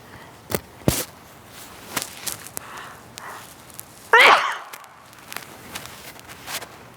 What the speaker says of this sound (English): I'm going to sneeze here for a moment